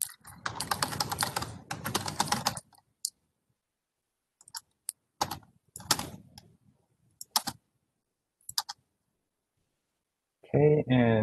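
Bursts of clicking keystrokes on a computer keyboard during work in Windchill software, coming in quick clusters separated by silent pauses, close and crisp, with someone briefly talking at the end.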